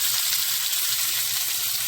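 Koi fish frying in spiced oil, a loud, steady sizzle that fills the whole stretch with dense crackling and no pauses.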